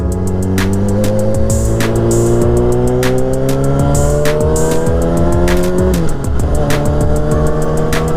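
A 2005 Yamaha R6 sport bike with carbon fiber parts accelerates hard on a highway, its loud engine note climbing steadily through the gears with a shift near the end, continuous and close with no talking.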